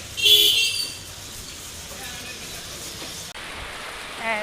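Rain falls on a street in a steady, soft hiss, with a louder gusty swell near the start and a brief muffled knock about two-thirds of the way through.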